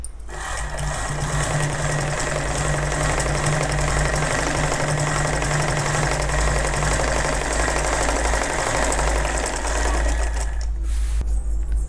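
A sewing machine stitches lining cloth for an elbow sleeve, its steady, loud mechanical whir running almost continuously before it cuts off near the end.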